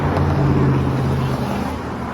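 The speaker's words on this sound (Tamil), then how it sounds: "கோல்டன் கேட் பிரிட்ஜில் டிராஃபிக் போயின்னு இருக்கு." Steady road traffic on the Golden Gate Bridge in San Francisco on a foggy day rumbles continuously with a low droning hum, a broad wash of passing vehicles without breaks.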